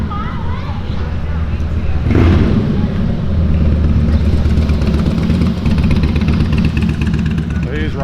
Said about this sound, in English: sounds like we got a motorcycle coming here